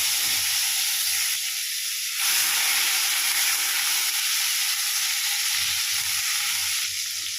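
Chopped tomato hitting hot oil with black cumin and a dried chili, a loud, continuous hiss and sizzle, close up, with faint stirring scrapes underneath.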